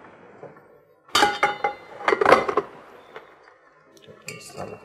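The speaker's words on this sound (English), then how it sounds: "we have here even a whisk, which I can put together" A whisk attachment is fitted onto a FIMEI MK-37 stand mixer, giving a few bright clinks and clattering clicks in short clusters separated by near silence.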